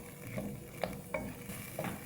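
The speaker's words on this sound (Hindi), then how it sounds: "आलू डालकर भी भून लेंगे साथ में।" Potatoes are tossed into softened tomatoes in a pan for pulao, with four distinct scraping strokes of a spoon over a faint, low sizzle.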